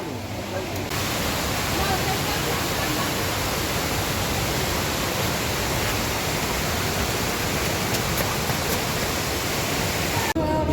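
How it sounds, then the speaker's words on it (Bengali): A waterfall near Changu Lake in Sikkim makes a steady, dense rushing roar. The sound stays close and constant without pause. "ওই যে দেখা যাচ্ছে জল পড়ছে।"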